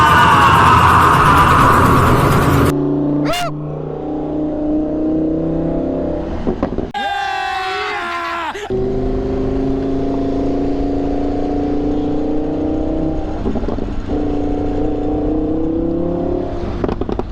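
A Lamborghini or Ferrari sports car engine growls steadily, with a brief loud rev burst in the middle before settling back to a droning cruise, close and prominent, with no talking.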